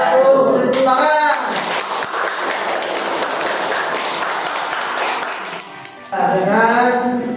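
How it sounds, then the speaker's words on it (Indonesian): Classroom applause for a student group after its presentation in a civics lesson; a sustained patter of clapping runs through the middle, with talking voices at the start and end. "Tepuk tangan."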